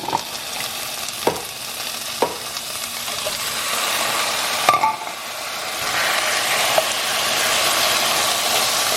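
Celery, carrots and peas dropped into a hot pot for lentil soup, a dense close sizzle that swells and holds steady, punctuated by a few sharp clacks of the ingredients and utensil hitting the pot.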